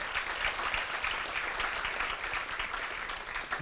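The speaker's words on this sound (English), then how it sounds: "please just give yourselves a round of applause for your work" Audience at a health care forum giving a round of applause, a dense, continuous roar of clapping at steady loudness for a few seconds, with no speech on top.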